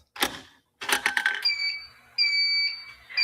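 A fire alarm set off from a manual pull station: a couple of sharp clicks and clattering handle noises, then a loud electronic horn sounding in two bursts.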